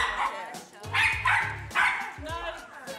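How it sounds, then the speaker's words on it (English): A small dog barks in short, sharp yaps that come in bursts, close and loud, at a gathering of small dogs and their owners, with some whimpering between the barks. "Small dogs are quite renowned for being yappy,"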